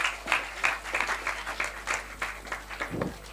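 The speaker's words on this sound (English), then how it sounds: "Can we have a round of applause for all these 6 teams once again?" An audience at a quiz competition applauds the teams: moderate, fairly quiet clapping with a steady rhythmic pattern of claps from a modest crowd, ending with a low thump.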